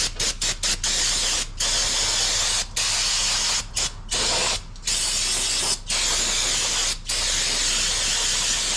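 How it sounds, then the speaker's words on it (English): Loud hissing bursts from an aerosol can of brake cleaner, sprayed in long sustained blasts broken by brief pauses, close to the microphone, while cleaning the front brakes of a fifth-generation 2WD Ford F-150. "And then we're going to spray it off with a little bit of brake cleaner."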